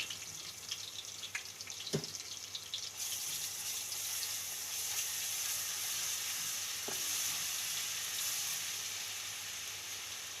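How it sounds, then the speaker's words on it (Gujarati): Ginger, chili and garlic paste with asafoetida hitting hot oil, a soft hiss that swells into a steady low sizzle after a sharp clink near the start, quiet and without voices. "આદુ મરચાં ને લસણની પેસ્ટ નાખી દેવું, અને આપણે આ હિંગ નાખી દેવું."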